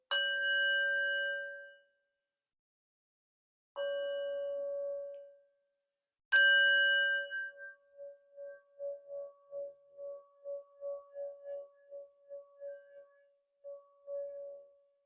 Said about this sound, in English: Now that's a sound bowl, baby. That's what I'm talking about. A sound bowl.